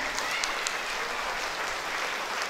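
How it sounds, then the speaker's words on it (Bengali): Students and guests at a scholarship exam results ceremony in Rupnagar, Mirpur, Dhaka give a teacher a round of applause, a fairly faint but steady wash of clapping that continues evenly throughout. "আমি আশা করি সবাই আনারস স্যারের জন্য একটা করতালি হয়ে যায়"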